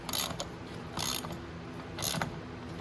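A wrench or ratchet snugs wheel hub bolts on a Venom 125cc mini Jeep up on a lift, giving three short bursts of mechanical clicking spaced about a second apart over a steady background hum.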